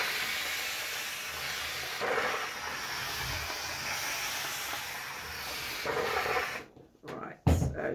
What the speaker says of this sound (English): what I'm going to do is steam these to make them flexible